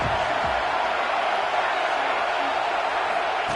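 Home crowd at a Bulldogs versus Red Raiders football game, a steady, broad roar of cheering that holds evenly for a few seconds at a distance.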